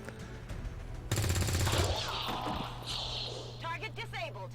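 Rapid burst of automatic gunfire from soldiers in XCOM 2, loud and close for about a second, followed by game sound effects and a synthetic voice speaking.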